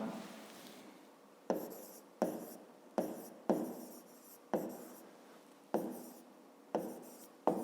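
A pen writes on paper in quick, separate strokes, each a sharp scratch that fades out, repeating at a regular pace close to the microphone with no talking.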